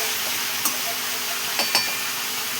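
Tomato chutney is stirred in a pan with a soft continuous sizzle, punctuated by a few faint clinks of the spoon against the metal.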